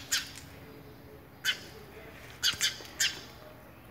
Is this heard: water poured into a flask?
no